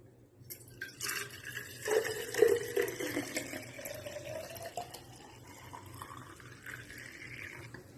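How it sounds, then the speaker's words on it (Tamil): Herbal leaf water being poured into a water bottle, a soft trickling stream with a rising pitch as the bottle fills, fairly quiet and close with no talking. "இது இப்போ வாட்டர் பாட்டில் ஊற்றியாச்சு."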